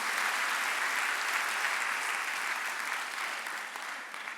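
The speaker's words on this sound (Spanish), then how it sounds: "Dale un aplauso al Señor" Steady applause from a church congregation praising the Lord during a sermon, a dense sustained wash of many hands clapping that fades slightly toward the end, with no voices over it.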